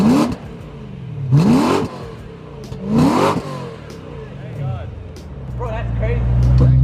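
A BMW E92 M3 with a loud aftermarket exhaust barks through several sharp, close revs that rise and fall, then settles into a deep, steady rumble as people talk nearby.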